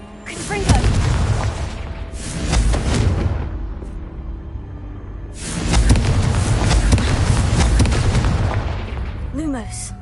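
Confringo fire spells blasting in Hogwarts Legacy, two long rumbling bursts of booming crackle with fiery whooshes, a quieter lull between them and a voice heard during the casting.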